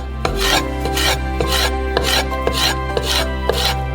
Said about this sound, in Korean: 피망에서 펄프를 발라내고 작은 조각으로 썰어주세요.